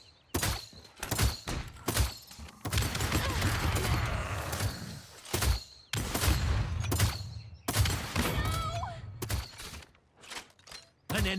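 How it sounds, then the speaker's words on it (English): Drogoz's supercharged rocket barrage in the Paladins video game, a rapid string of close, heavy explosive booms and thuds in bursts, separated by short gaps, with no one talking. "left trigger will cause Drogoz to load all remaining rockets in his launcher and supercharge it to bombard his enemies with"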